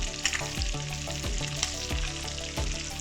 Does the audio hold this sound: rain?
no